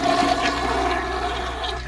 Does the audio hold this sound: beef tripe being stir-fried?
no